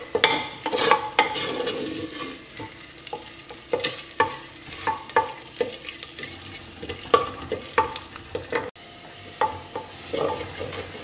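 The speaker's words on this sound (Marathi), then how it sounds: "आमी न्हू सारकी लो दवरया गॅस आनी फोंड मारया" Chopped onions with a little salt fry gently over a low gas flame, a soft sizzle broken by frequent spatula strokes and clinks against the pan, close and without talk.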